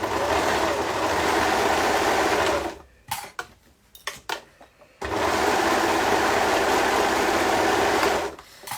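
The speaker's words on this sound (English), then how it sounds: "I'm actually going to sew from the bottom to the top because that makes me feel better today" Sewing machine running a seam on pink-threaded leggings, a loud steady close whir for several seconds, a pause with a few clicks and handling noises, then another long continuous run that stops near the end.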